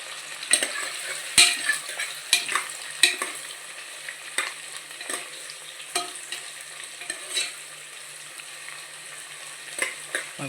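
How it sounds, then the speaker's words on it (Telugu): Onions fry in oil inside a pressure cooker for vegetable biryani, a steady close sizzle with repeated scraping stir strokes and clinks of a spoon against the metal pot, no voices. "ఆనియన్స్ వేసుకొని వేపుకోవాలి కొంచెం"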